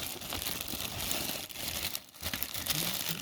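Plastic bag crinkling and rustling as cut rocks, including chalcedony, are pulled out, a continuous close crackle with a brief pause midway.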